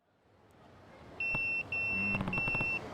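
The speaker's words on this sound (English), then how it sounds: "That's my beeper." A pager beeps in the video game Yakuza 0, sounding a repeated series of steady high electronic tones in two long pulses and a short one over a low background hum.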